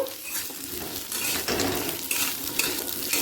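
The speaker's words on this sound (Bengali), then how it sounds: "কড়াতে এক টেবিল চামচ সর্ষের তেল দিলাম আলুটা প্রথমে এক মিনিট ভেজে নেব" Potatoes fry in a tablespoon of mustard oil in a kadai on a gas flame, a steady broadband sizzle with occasional stirring scrapes that swell slightly louder partway through, close and continuous without talk.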